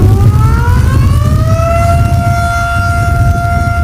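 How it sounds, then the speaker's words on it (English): A siren sounds at the finish of the Yukon Quest sled dog race to announce the winner coming in, its loud, rising wail climbing in pitch and then holding steady over a low rumble of background noise. "the siren goes off to announce the winner coming in"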